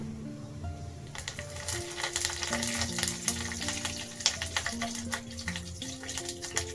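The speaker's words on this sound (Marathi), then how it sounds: "कढीपत्ता टाकलाय मोहरी टाकली मेथी दाणा टाकल्यात थोडेसे उर्दा उर्दाचे डाळ टाकले थोडेसे आणि एक मिरची टाकली आपली" Curry leaves, mustard seeds, fenugreek seeds, urad dal and a chilli sizzle in hot oil as a tempering for coconut chutney. The frying crackle runs continuously under background music.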